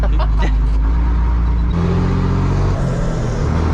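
An old Renault tractor's engine runs close by, a loud steady low rumble with rhythmic harmonic throb, shifting slightly in pitch partway through as the idle settles, with no talk over it.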